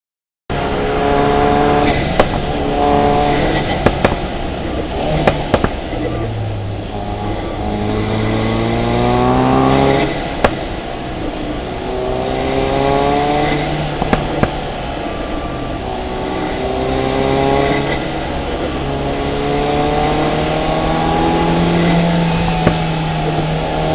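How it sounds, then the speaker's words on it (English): A Ford Focus RS drives along a back road, its engine revving hard through repeated rising sweeps with gear changes in between, loud and close with no talking. "I decided to take the car out to one of the local back roads"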